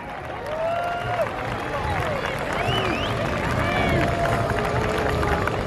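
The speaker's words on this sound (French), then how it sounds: "On peut l'applaudir" A race crowd applauds a third-place Light Modified driver at the Euro-Cup podium in Bernay. Steady clapping and crowd noise fill the whole stretch while an announcer's voice talks over it.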